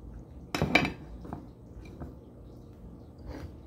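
Broccoli florets tipped into a deep bowl make a short rustling clatter of two quick dumps, then a couple of faint light knocks in a quiet kitchen.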